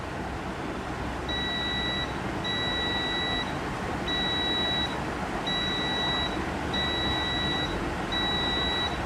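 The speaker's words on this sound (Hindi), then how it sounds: "इन दोनों वायर को हम लोग ने जब भी कनेक्ट किया तो वहाँ पर बज़र बजने लगा" A continuity tester's buzzer sounds repeatedly as two blue Pulsar motorcycle wiring wires are touched together, giving steady, evenly spaced high electronic beeps, each about a second long, over a constant background hum.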